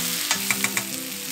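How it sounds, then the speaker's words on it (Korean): Sesame oil sizzling as food is stir-fried over medium heat, with a steady frying hiss and several sharp spatula scrapes and clinks spaced close together, no voices. "참기름 1스푼 넣고 중불에서 볶아줍니다."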